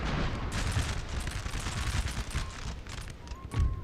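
Jaeger light infantry volley in a Napoleon Total War battle: dense, distant musket fire crackles in continuous ragged bursts with heavier booms mixed in, a rolling battlefield din without a break.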